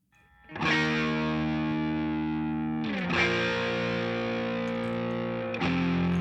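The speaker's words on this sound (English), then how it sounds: "Let's take a look at the rhythm guitar first." Heavily distorted, overdriven electric rhythm guitar strumming sustained power chords, loud and alone, with chord changes around three and six seconds.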